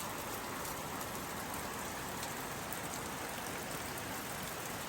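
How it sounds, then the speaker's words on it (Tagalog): Steady morning rain pours down evenly, a dense continuous hiss of drops on surfaces with no pauses or voices. "Ulan pa more."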